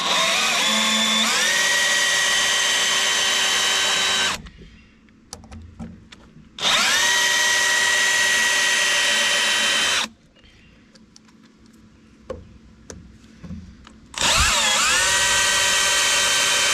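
A power drill with a Torx bit backs screws out of a live-edge wooden bench, whining in three loud bursts separated by quiet pauses with small clicks and knocks.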